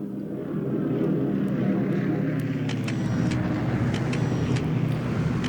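Incoming aircraft in the War in the Pacific video game, heard as a steady loud droning engine hum that rises slightly and sustains throughout, with faint clicks on top and no talk.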